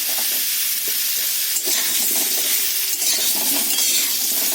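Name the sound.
young jackfruit frying in oil with turmeric in a wok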